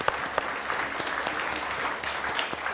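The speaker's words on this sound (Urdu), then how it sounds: "سعد کے لیے بہت ساری تالیاں جی، بہت ساری تالیاں" An audience gives warm, continuous applause for Saad, a dense, even patter of many hands clapping with no pause.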